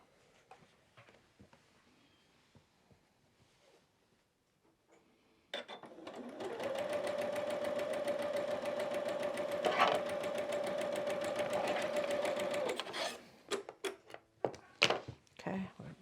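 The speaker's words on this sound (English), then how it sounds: "So I'm going to sew them just like this." A sewing machine stitching quilt pieces together for a quilted snowman block runs in one steady, close burst of rapid mechanical whirring and ticking for about seven seconds, with soft handling sounds and light talk before and after.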